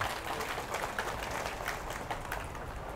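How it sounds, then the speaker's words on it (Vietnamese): Applause from the gathered crowd at a Buddhist temple inauguration ceremony in Bà Rịa-Vũng Tàu, Vietnam: steady, fairly faint clapping across the hall, heard alone without talk. "Xin toàn thể hội trường cho một tràng pháo tay thật nồng nhiệt."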